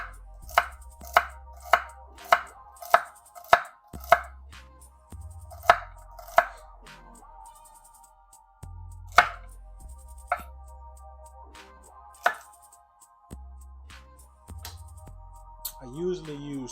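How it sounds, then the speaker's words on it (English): Knife chopping celery on a cutting board, a quick run of about eight sharp evenly spaced chops followed by slower scattered cuts, close and clear with no talk. "we're just gonna get this a nice little chop"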